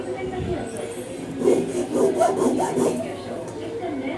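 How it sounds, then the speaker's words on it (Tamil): Waste cardboard is folded and cut, giving close, rough rubbing and sawing-like scraping strokes in a few short bursts over several seconds. "இப்போ சென்டரில் மடக்கிட்டு கட் பண்ணிக்கலாம்."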